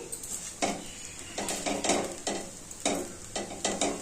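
A spoon stirs grated coconut into poha in a pan, making repeated rhythmic scraping and clinking strokes about every half second over a faint sizzle; no speech.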